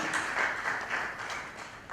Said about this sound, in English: Can we have a huge round of applause for Interior Cafe Night?